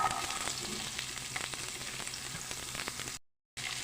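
Onion pieces fry in oil in a pan, giving a dense, even sizzle close by with scattered pops and crackles, then a brief silent gap before the sizzling returns.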